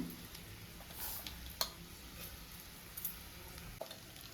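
Mustard seeds and urad dal sizzle steadily in hot oil for a tempering, a soft continuous crackle with a few sharp pops and light ticks, close and fairly quiet with no talking.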